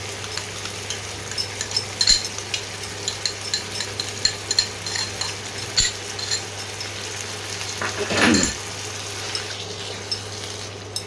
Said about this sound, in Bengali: মশলা দিয়ে মাংসটাকে একটু কষাতে হবে